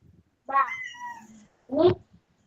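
A cat meows twice, a long drawn-out call followed after a short pause by a shorter one, close and clear with no talk.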